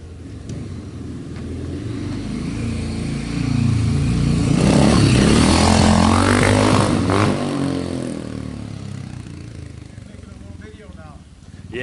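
A 1986 Honda XR600R four-stroke motorcycle engine at close range, thumping at idle, then revving up into a loud swell with rising pitch before easing back down as the bike moves off; no speech.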